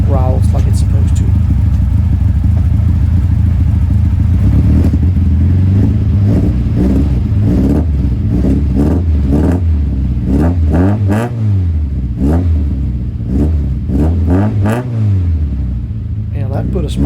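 A Toyota Celica TA22 with a 2T-G engine growls and revs repeatedly, its new exhaust note rising and falling in several surges, loud and close.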